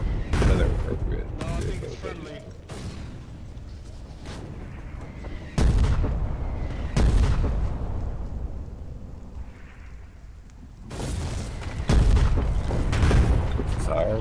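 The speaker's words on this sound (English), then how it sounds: "It's our artillery or theirs?" In the war video game Foxhole, artillery shells boom repeatedly, with heavy blasts at irregular intervals and rumbling decay between them. Voices can be heard talking over the barrage.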